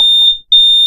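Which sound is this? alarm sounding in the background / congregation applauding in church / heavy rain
alarm sounding in the background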